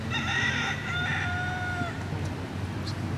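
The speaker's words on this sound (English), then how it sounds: "Look at all those chickens." Chickens and a rooster in the Netherlands, one clear crow rising over steady clucking and background farmyard murmur, fairly close and without talk.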